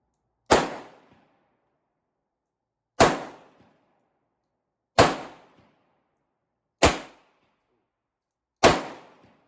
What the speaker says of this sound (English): Right now I'm just shooting downrange in a safe direction.